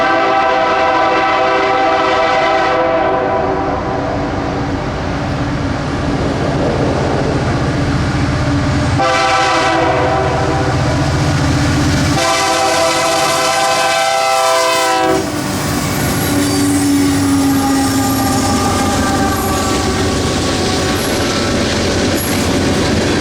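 Freight train led by Canadian National EMD SD75i locomotives passing on the S-line in North Florida at sunrise, loud horn blasts over rumbling engines and clattering wheels, close and continuous.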